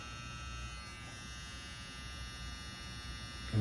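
Low, steady electric buzz of a small Stylecraft Saber cordless hair trimmer running quietly and continuously, with a faint hum and no speech.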